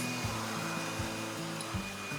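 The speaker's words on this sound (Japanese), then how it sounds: "結構風量が強いので、こんな感じで水滴全部飛びます。" A cordless car wash blower roars steadily as it blasts water droplets off a car, a loud continuous rushing airflow with a motor whine that rises and dips in short rhythmic surges.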